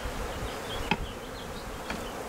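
A honeybee swarm buzzes around a hive a week after being collected, a steady close drone of many wings with two brief clicks or knocks.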